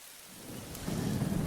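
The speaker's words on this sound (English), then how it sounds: "it's a rainy day" Rain falling with low thunder rumbling in the ambience of the Book of Hours video game, a steady wash that swells louder in the second half, with no voices.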